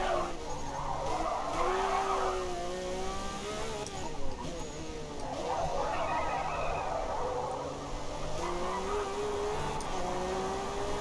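A Ferrari driven in the racing game Forza Horizon 5, its engine note rising and falling with repeated tire skids and squeals, loud and continuous throughout.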